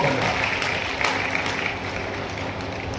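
Steady, moderately loud applause from an audience honouring agriculture students at the Kisan Expo 2024 closing ceremony at DDUGU, a dense continuous patter that holds evenly for about three seconds with faint crowd voices beneath.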